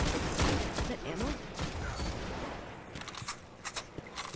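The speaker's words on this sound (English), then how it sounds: "I love the scout rifle" Scout rifle gunfire in a Destiny Crucible match, a run of sharp, spaced shots mixed with game effects, while a player talks over the action.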